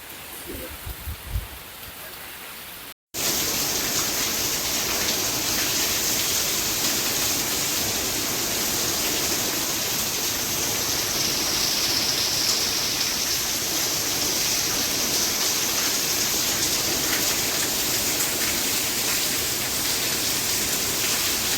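Heavy rain pours down steadily in a village amid strong wind, a dense unbroken hiss that follows a brief quieter moment and a short cut near the start.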